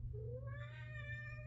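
A single cat meow rises in pitch and holds briefly, fairly quiet and alone over a low steady background hum.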